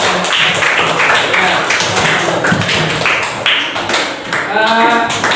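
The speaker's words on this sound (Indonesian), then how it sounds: "jadi kita beri aplaus dulu ya untuk kita" Classroom audience applauds during a teaching session, a loud, dense patter of many hands clapping steadily for several seconds, with a voice briefly heard near the end.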